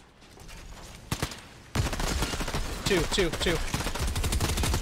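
Rapid gunfire in Fortnite, a few sharp shots early, then a sustained burst of automatic fire with clattering impacts, close and loud, with a brief spoken word.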